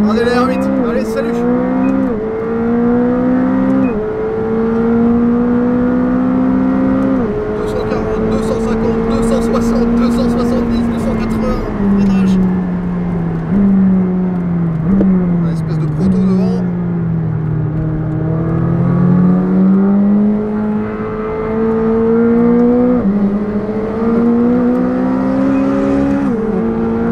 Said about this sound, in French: puis on a la GT2 RS Monte Racing de Sébastien Vittel devant.